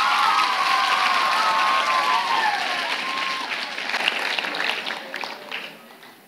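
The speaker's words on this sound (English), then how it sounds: "Can we give Keisha a big round of applause?" Audience applause at a primary school winter concert, steady clapping from a full room that holds strong and then tapers off toward the end, with a few faint voices mixed in.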